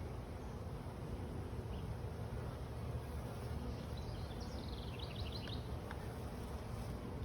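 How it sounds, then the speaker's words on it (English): Honeybees mill about on a hive frame during an inspection after a swarm catch, giving a soft, steady hum that is faint and continuous, with no talking. "Just a nice frame of bees."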